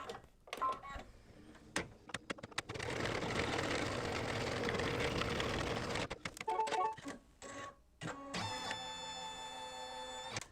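Embroidery machine stitching an applique tack-down for an in-the-hoop reverse applique bib: a steady, loud mechanical whirr of rapid needle strokes that starts, stops briefly, then resumes with a few short runs and clicks.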